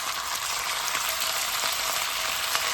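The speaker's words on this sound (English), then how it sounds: "I'm just going to shallow fry this" Chicken shallow frying in a small amount of hot oil gives a steady, dense sizzle, close and fairly loud, with faint crackles and no voices.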